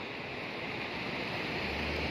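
Steady, unbroken rushing of the Alaknanda river with waterfalls nearby in the mountains near Joshimath, filling the whole stretch with a dense roar and no voices.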